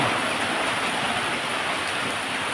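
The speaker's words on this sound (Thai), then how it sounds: "ฝนตกมาอีกแล้ว" Heavy rain pours down in a dense, steady hiss, loud and close, with no voices over it.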